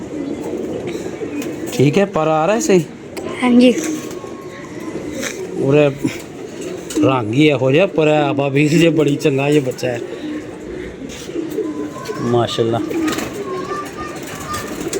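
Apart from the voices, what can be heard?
pigeons cooing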